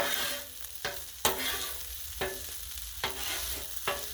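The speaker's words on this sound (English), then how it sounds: "So we'll have to stir that up good" Chicken fried rice stirred on an outdoor griddle, a continuous close sizzle broken by about five sharp spatula scrapes and clacks at uneven intervals, with no voices.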